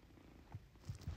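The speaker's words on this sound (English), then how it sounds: "He's still purring though" A pet cat purrs softly and close, a low rumbling purr that swells in a few faint pulses toward the end, with no talking.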